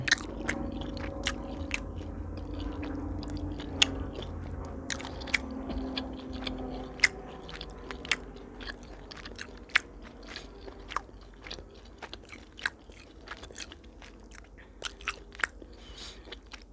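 Smashburger barbecue chicken wings, slightly crispy, bitten into and chewed up close: sharp crunchy bites that come at uneven intervals over a soft, continuous wet chewing, with no voice.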